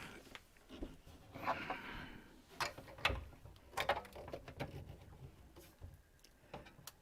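A woodworking machine is lowered by a geared crank mechanism, with faint ratcheting clicks and mechanical rattles in irregular bursts, quiet and close.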